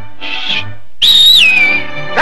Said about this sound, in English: you know, just whistle. Like this.